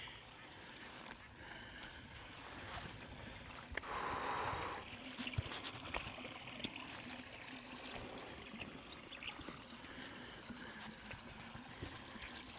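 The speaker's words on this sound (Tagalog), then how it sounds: "Tawagin na natin siyang isang tagong ilog dito sa Tansa Cavite." The Tres Cruses River in Tanza, Cavite flowing over stone channels, a faint, steady wash of water trickling throughout, with a brief louder splash partway through.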